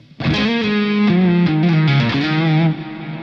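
A warm, lightly overdriven electric guitar through a low-gain amp setting, a clean channel with a little boost, rings out a few sustained notes and chords, slightly crunchy, with effects shimmer, fading out at the end.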